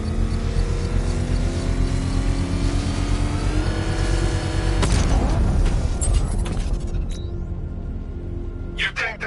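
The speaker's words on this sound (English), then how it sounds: "I can use the power winch to trigger a controlled explosion." A controlled bomb explosion in the video game Batman Arkham, a rumbling engine-like roar that bursts into a heavy blast around the middle, followed by crackling debris and sharp clanks as the noise fades, with game voices over it.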